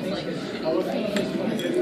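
Brief clinking of dishes, glass and cutlery sounds in a busy Tim Hortons coffee shop, with faint voices in the background.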